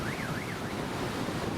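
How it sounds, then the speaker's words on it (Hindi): Ocean surf washing continuously onto a round-pebble beach on the Peruvian coast, a steady broadband roar with wind noise and no clear gaps between waves. "यहाँ किनारे की ओर लहरें लगातार आती रहती हैं।"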